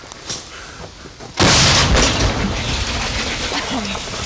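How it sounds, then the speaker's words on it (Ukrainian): A D-30 howitzer fires once with a sudden heavy boom that stays loud and rumbling for several seconds, preceded by a brief quieter stretch with faint voices near the gun crew at an artillery position. "Постріл! Так! Гармата!"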